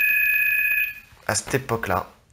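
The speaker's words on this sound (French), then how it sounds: "c'est ton téléphone, on va le laisser sonner" A mobile phone rings indoors with a steady electronic ringtone for just over a second, then it stops and voices take over in conversation.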